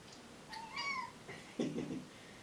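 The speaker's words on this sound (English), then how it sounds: "My cat." A house cat meows indoors, a drawn-out rising and falling call followed by a shorter, rougher second meow, fairly close and clear against a quiet room.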